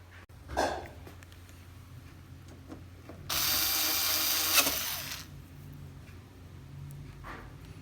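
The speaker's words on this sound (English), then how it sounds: "install all the screws on four sides of this bezel" A screw being driven into the bezel of a Samsung 32-inch LED TV with a power tool: one steady whir of about two seconds, close and fairly loud, with faint handling noises before and after.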